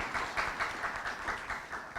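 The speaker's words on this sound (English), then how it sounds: "They get a clap too." A crowd at a Baltimore County education event gives board members a short round of steady applause, moderately distant and even in rhythm.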